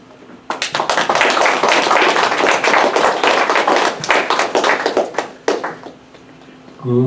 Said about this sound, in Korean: 연단에 나오실 때 큰 박수를 부탁드리겠습니다.